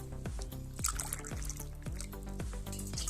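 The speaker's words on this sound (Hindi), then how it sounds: "उसमें आपने डाल लेना है तकरीबन 2 कप पानी डाल लेना है।" Water is poured from a cup into a cooking pot, a steady trickle and splash running continuously for about three seconds over soft background music.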